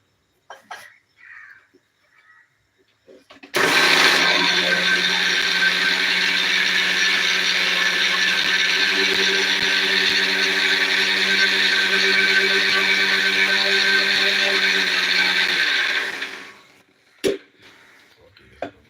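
An electric mixer grinder whirs loudly and steadily for about thirteen seconds as it grinds chickpeas into a smooth paste, starting abruptly and cutting off, with small clicks and handling noises before and after.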